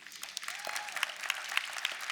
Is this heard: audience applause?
yes